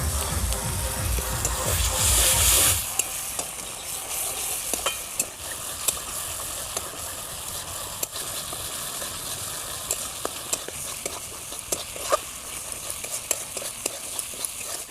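Spice paste for an eel fish curry sizzles in hot oil while a spoon stirs and scrapes it in steady strokes. A louder burst of frying opens the passage before it settles into a close, continuous sizzle with regular stirring clicks.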